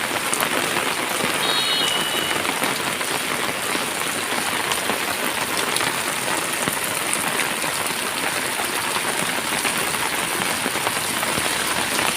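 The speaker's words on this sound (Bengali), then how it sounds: "আজকে সকাল থেকে প্রচণ্ড হারে বৃষ্টি পড়ছে" Heavy morning rain pours steadily throughout, a dense, constant hiss of drops drumming on surfaces with no pauses or voices.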